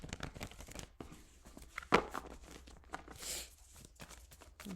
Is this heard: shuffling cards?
yes